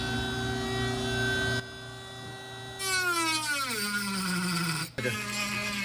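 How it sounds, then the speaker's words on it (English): A Dremel rotary tool smooths a fabricated edge on a 2022 Hyundai Kona N: a steady high motor whine that drops in pitch as it bears down on the part, then briefly catches and spins back up, close and fairly quiet. "Just gonna Dremel it out and make it smoother along this edge."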